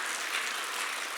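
A church congregation at a Sunday worship service applauds in a short, soft wash of steady clapping heard from a distance.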